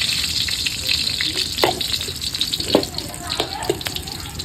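Pounded curry paste stir-fried with frogs in a hot pan gives a steady, close sizzle with scraping stirs and small clinks throughout.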